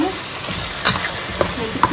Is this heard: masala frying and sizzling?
yes